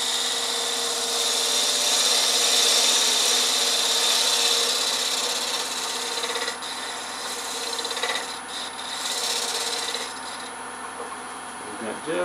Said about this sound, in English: I think I'm gonna smooth this out with this 3/8 inch spindle gouge.